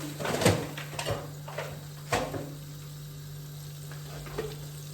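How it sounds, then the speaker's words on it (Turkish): Flour toasting in melted butter in a pan, a low steady sizzle with a few louder scraping stirs near the start and middle, close by with no talk. "Un kokusu çıkana kadar kavuralım tereyağımız erisin içinde."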